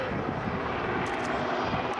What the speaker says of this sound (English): The aircraft being flown by Flight Lieutenant Merv Counter